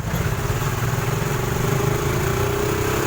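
A motorcycle engine idles nearby with a steady low throbbing rumble and a faint rising tone, running continuously without talk.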